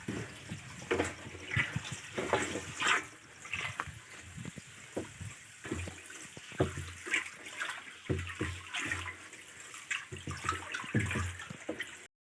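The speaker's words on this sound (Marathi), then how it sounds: "नळीच्या साह्याने पाणी टाकणं चालू आहे" Water poured from a hose onto a sorghum field, an uneven splashing and gurgling flow with irregular bursts, moderately close and without talk.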